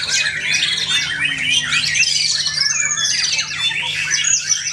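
A white-rumped shama (murai batu) sings in a songbird contest, pouring out a loud, unbroken stream of rapid, varied high whistles and trills over a steady low hum.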